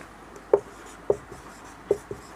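Pen or chalk writing out a Sanskrit verse example, a few faint scratchy taps and strokes spaced irregularly against a quiet room background.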